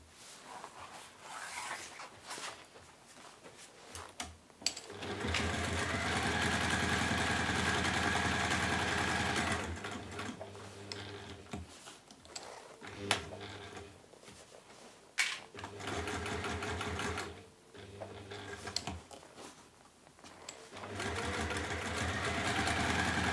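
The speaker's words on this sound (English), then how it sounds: "sew down, across and up" A sewing machine stitches a bowling bag in several long, steady runs of rapid mechanical whirring, broken by short pauses with faint handling sounds, close and clear.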